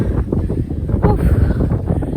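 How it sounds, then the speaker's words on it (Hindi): Strong wind gusting at a hilltop castle in Meissen, Germany, a loud steady rumble buffeting the microphone throughout with no talking. "बहुत हवा चल रही है"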